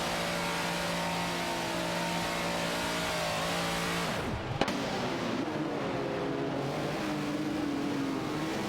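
Lola T280 and Renault Alpine 442B race cars roar in a close racing game battle, engines holding steady high revs with tonal harmonics, a sharp downshift and quick pitch swoop near the middle, then revving on loudly.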